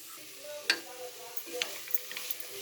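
Amaranth leaves and moong dal curry simmer in a pan with a soft, steady sizzle, broken by a few light clicks of stirring close by.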